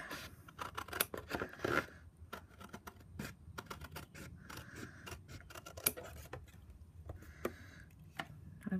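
Scissors snip along a line through paper or card for an embossing-folder expanding file, with a steady stream of close, crisp clipping cuts and small rustles, no talking over them.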